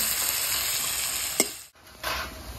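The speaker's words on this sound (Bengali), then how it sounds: "পেঁয়াজটা দিলে না টেস্টটা বাইরে আসবে। ভালো করে ভেজে নেবো।" Chopped onions sizzling and frying in a pan for a Bengali mustard pabda fish curry, with a spoon stirring and scraping through them; a steady close hiss with a brief stir clatter midway, no talking.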